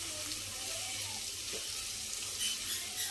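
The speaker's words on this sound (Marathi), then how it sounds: "व्यवस्थित परतून घेऊया आतमध्ये" Taklya greens being sautéed in a pan give a steady, soft sizzle with faint scraping and stirring throughout, close and continuous, with no voices.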